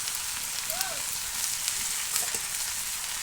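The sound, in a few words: green chillies and chopped onion sizzling in a pan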